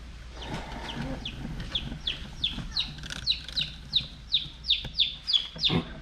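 Newly arrived young chicks peep in rapid, repeated high chirps that grow louder and more frequent, with a few softer clucking notes and a low steady hum underneath.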